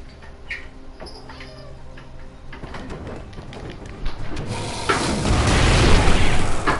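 A video game explosion builds into a loud, broad rumbling boom that swells toward the end, following quieter clicks and ticks.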